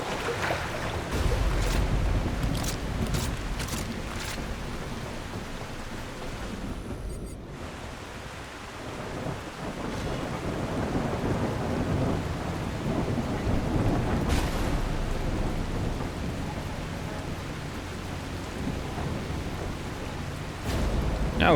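Heavy rain and rumbling thunder fill a stormy landscape in the video game The Last Caretaker, a steady broadband roar with a brief lull midway and no voices.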